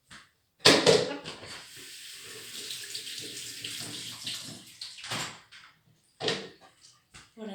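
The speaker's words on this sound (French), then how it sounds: "le kéfir qui est là, moi je le rince avec de l'eau claire avant de le remettre en bouteille" Tap water runs into a sink while kefir grains are rinsed, a sudden splashing gush settling into a steady close stream, then brief clunks and a final splash as the flow stops and restarts.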